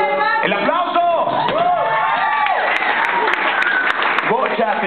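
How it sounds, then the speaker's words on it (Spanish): An audience at a 2009 kindergarten band competition semifinal applauds and cheers loudly and continuously, with an announcer's voice and music-like tones layered over the crowd. "¡El aplauso!"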